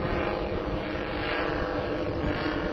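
A model B-29 bomber with propeller engines flies overhead. Its engines give a steady, moderately distant buzzing drone that holds evenly throughout, with no talk over it.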